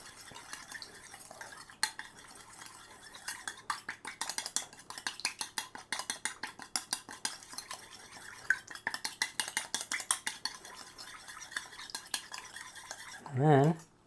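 Frisée, pear and blue cheese salad being tossed in a bowl with utensils, a steady run of close clinking, scraping and rustling strokes, fairly quiet and continuous, ending in a brief louder scrape, with no talking.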